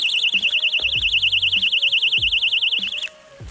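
A personal safety alarm shrieks in the woods, a loud, piercing, rapidly warbling tone for about three seconds before cutting off, close up and with no speech.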